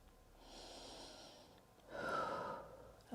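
Slow breathing during a yoga exercise: one soft, drawn-out breath, then a stronger, louder exhale with a slight whoosh, close and quiet with no talking.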